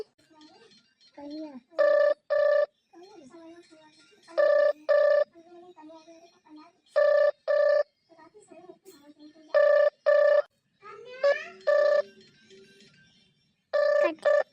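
Telephone ringback tone repeating in pairs of short electronic rings at regular intervals while trying to call a doctor, with quiet speech murmuring between the rings.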